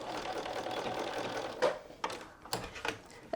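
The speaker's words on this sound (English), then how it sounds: "We'll just do a quick straight stitch" A sewing machine runs a quick straight stitch across fabric for a scrunchie, giving a steady close mechanical whir with a few brief clicks and knocks near the end.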